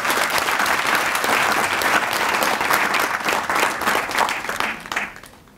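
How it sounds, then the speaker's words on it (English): An audience at a professorial inauguration breaks into a hearty round of applause, a dense wash of many hands clapping that holds strong for several seconds before thinning out and fading near the end. "he deserves a big round of applause for that"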